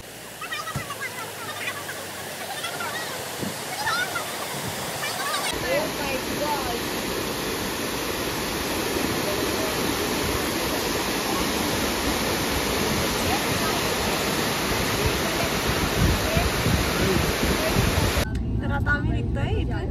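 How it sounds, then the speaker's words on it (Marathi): A large waterfall in Mahabaleshwar roars with steady, broadband rushing water throughout, loud and continuous, while people talk faintly over it at the start. "ये बहुत बड़ा वाटरफॉल है, आप देख सकते हैं."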